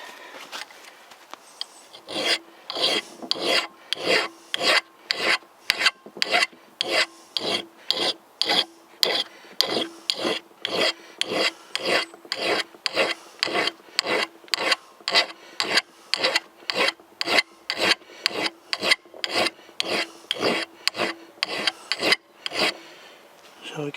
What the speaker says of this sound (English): So what we're going to do is use files on that, because there's a little bit of roughness on the edge.